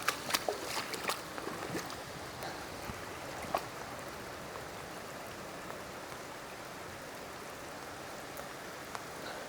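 A river in the Scottish highlands flows with a steady broadband wash while someone walks over it, a few sharp clicks and knocks early on and then a smooth, fairly faint rush without voices.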